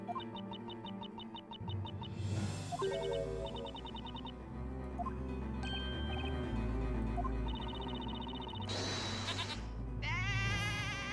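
A goat bleats several times over steady background music, with the calls rising above the music as wavering, nasal cries near the end.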